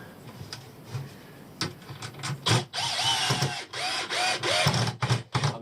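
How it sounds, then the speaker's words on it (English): A drill drives longer, thicker screws into the ends of a homemade prawn pot trap, with several bursts of rising and falling motor whine and clicking mechanism noise at close range. "I always put a longer, thicker screw in, just on the ends."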